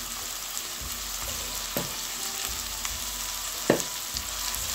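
Onion, garlic and a pinch of salt frying in a pan, giving a steady close sizzle with a few sharp scrape or stir knocks spread through, and no talking.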